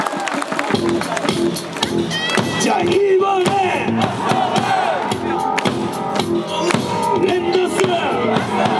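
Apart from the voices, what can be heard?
baseball crowd clapping and cheering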